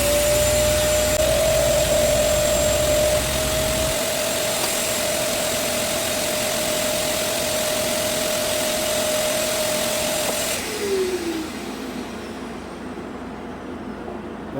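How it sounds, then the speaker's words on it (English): A vacuum cleaner runs with a loud, steady whining drone while cleaning around the engine bay of a 2007 Mazda CX-9, then is switched off near the end and winds down with a falling pitch. "So I like to vacuum"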